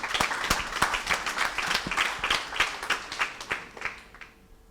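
Audience applause at a Pan African conference session, a dense burst of many hands clapping that carries steadily and then tapers off toward the end, with no voices over it.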